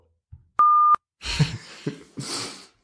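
A censor bleep sound effect: one loud, steady electronic beep lasting about a third of a second, followed by breathy puffs and rustling with no speech.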